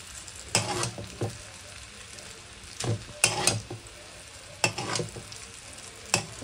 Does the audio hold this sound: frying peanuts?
yes